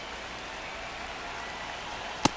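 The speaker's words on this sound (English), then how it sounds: "This rain is not letting up." Steady rain hisses continuously across a game ballpark during an MLB The Show 26 baseball match between the Yankees and Blue Jays, with one sharp crack cutting through near the end.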